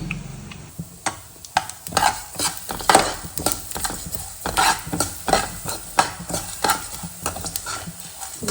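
Coriander seeds being dry-fried and stirred in a pan for Melukote puliyogare spice powder, with repeated scraping strokes and light crackling in an irregular rhythm, close and moderately loud, no voices.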